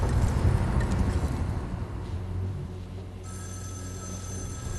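A telephone rings in the video game Erica, with a bright ringing tone rising over a low ambient rumble and a steadier electronic ring taking over toward the end.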